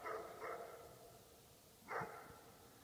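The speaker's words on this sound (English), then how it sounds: "You can hear the dogs." Dogs barking in the distance at night during a rocket launch viewed from afar, with two faint bursts of barking separated by a pause, thin and far off over quiet outdoor background.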